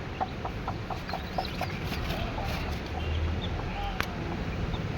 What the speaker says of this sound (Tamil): கோழி வேறு தூக்கி பார்த்தா கத்துது